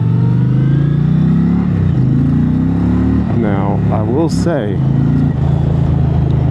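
An Indian Challenger motorcycle on its stock exhaust revs up and accelerates, its engine note rising and falling under someone talking close to the microphone.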